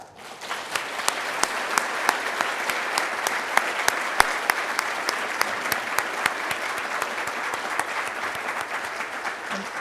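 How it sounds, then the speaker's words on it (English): Lecture audience applauding, a dense, steady wash of many hands clapping with sharp individual claps standing out, sustained at an even level throughout. "let's give a round of applause to Russ."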